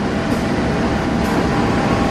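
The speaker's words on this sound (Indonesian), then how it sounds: "Dibawa sama kereta api Bangunkarta kawan." Bangunkarta passenger train, running from Jombang to Jakarta Pasar Senen, passing through Jatinegara station: a steady, dense rumble of rolling wheels and carriages, close and continuous with no voices.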